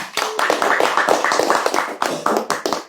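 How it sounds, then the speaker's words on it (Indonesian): A crowd at an Islamic religious sermon claps in uneven bursts, sharp close hand slaps that rise and dip with short gaps between them. "Tepuk tangan."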